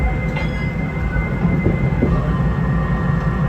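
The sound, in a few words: passenger train departing from the station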